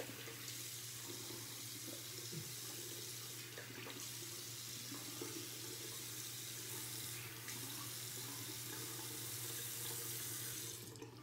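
Tap water runs steadily from a faucet into a sink as a face is wetted before shaving, a constant close rush with a few soft splashes and no talk.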